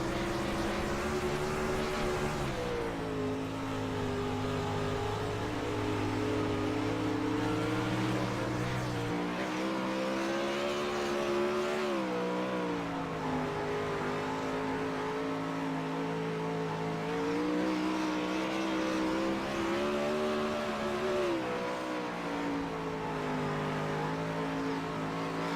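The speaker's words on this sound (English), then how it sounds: "I just love the way a sprint car sounds. Just sounds like raw power to me." A sprint car engine roars loud and steady from an on-board position at a race at the Grove, its pitch rising and falling through the laps with no break in the sound.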